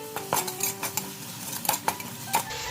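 Onion sautéing in a pan with salt, a faint sizzle under a series of sharp metallic scrapes and taps of a spoon against the pan, irregular and close.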